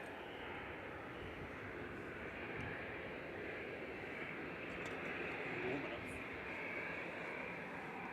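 A Boeing 787-9 Dreamliner of 2E Fly Nordic at Manchester Airport gives a steady, broad jet roar that holds at an even level throughout, with voices talking faintly over it.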